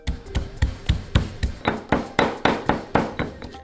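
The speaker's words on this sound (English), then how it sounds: "just give this a good pounding, or pok pok as we say in Thailand" Paste ingredients for a Thai pork and shrimp dip pounded in a mortar with a pestle, a loud, close series of about fourteen evenly spaced thuds in a steady rhythm.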